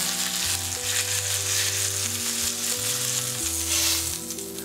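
Beef fat renders in a hot, smoking pan, giving a loud, dense, continuous sizzle and crackle with a musical backing and no talking.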